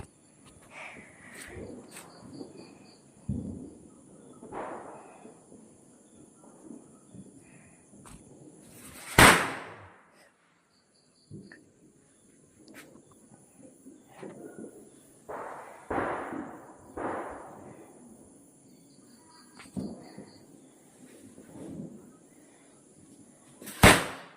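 Sharp firecracker bangs go off outdoors at irregular intervals, a few loud and close, others fainter, with insects chirping steadily in the background.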